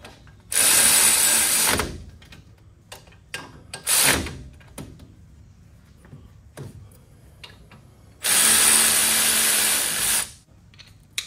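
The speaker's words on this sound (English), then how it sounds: "All right, 18 millimeter, get these tightened back up." A ratchet wrench tightens 18 mm bolts on a Ford F150 wheel hub assembly, three loud bursts of rapid ratcheting clicks separated by quieter tool handling and clanks, close up with no talking.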